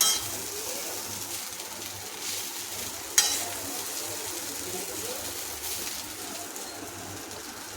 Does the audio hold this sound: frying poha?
yes